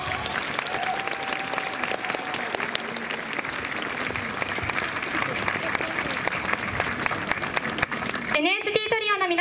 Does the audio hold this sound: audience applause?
yes